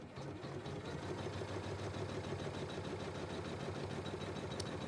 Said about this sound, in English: it's sewing the same circle again, and this time it's just tacking down the fabric to hold it in place